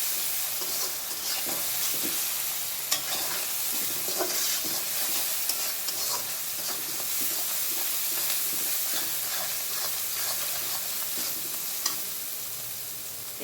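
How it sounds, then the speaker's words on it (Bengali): Garlic frying in a pan as the base for an egg curry, a steady broadband sizzle with occasional stirring scrapes and small pops, close and continuous with no talking. "রসুন একটু ভাজা ভাজা হোক"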